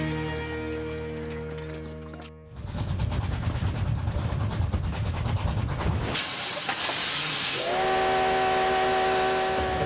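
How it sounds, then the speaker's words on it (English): Coal-fired steam train crossing the open prairie of the American West, a heavy close rumble with hissing steam and chuffing, and a loud steam whistle sounding at the start and again near the end. "A coal-fired steam train rumbles through the wide-open prairie of the American West."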